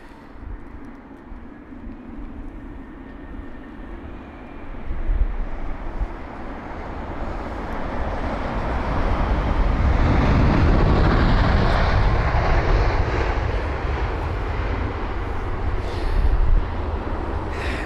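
A British Airways Boeing 787-10 Dreamliner arriving at London Heathrow in windy weather, a broad engine roar that builds and swells as the jet passes near, then holds loud and steady with wind buffeting the microphone.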